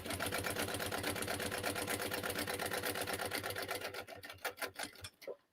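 A sewing machine runs at a fast, even rhythm while chain-sewing bag pieces, its close mechanical whir continuing steadily before slowing into a few separate stitches and stopping.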